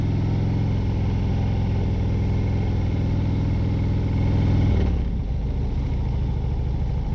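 Motorcycle carrying two riders, an adult with a child, on a winding Oklahoma back road with blind corners: a steady close engine drone that swells briefly, then drops back to a lower, rougher tone near the end, with no talking.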